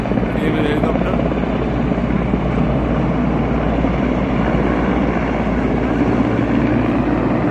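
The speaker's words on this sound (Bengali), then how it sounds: "এই হচ্ছে আমাদের হেলিকপ্টার।" A police-duty helicopter gives a steady, loud, continuous rotor and engine roar throughout, dense and unbroken, with no distinct pauses.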